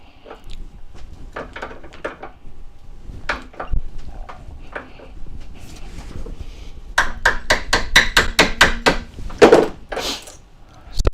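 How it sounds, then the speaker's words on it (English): A hammer strikes metal while a thicker piece of silverware is shaped: scattered single ringing blows come first, then a rapid run of about a dozen sharp, close strikes, with no talk. "Going to be using the hammer a lot on this one."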